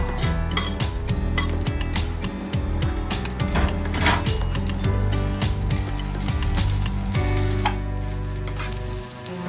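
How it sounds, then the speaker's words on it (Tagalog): Mixed vegetables stirred into rice frying in a pan, with a loud steady sizzle and repeated scraping and clinking of a utensil against the pan throughout, no talking. "Ihalo naman natin ngayon ang mixed vegetable para makulay siya."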